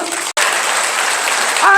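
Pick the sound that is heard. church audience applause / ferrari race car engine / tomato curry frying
church audience applause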